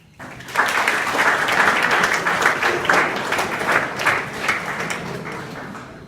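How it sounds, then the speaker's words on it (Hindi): Schoolchildren clap together in a classroom at a Modern Public School in Azamgarh, Uttar Pradesh, a dense burst of many small hands that starts abruptly, holds steady and eases off slightly toward the end. "जो लोग करते हैं उनके लिए ताली बजाओ"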